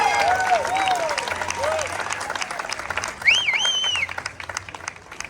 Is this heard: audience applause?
yes